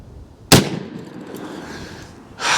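A .44 Magnum lever-action rifle fires a single loud, sharp shot into a gel block, its report ringing briefly before a second burst of noise rises at the end.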